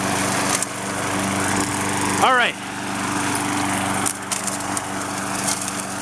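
A Craftsman 6.75hp walk-behind lawnmower engine drones steadily and loudly up close while mowing a suburban lawn, with a short rising tonal sweep midway and someone speaking briefly over it.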